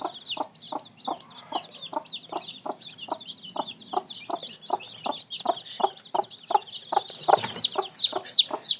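A hen clucks in a steady, repeated rhythm while a crowd of eighteen newly hatched local chicks peeps continuously and shrilly above her, close and fairly loud.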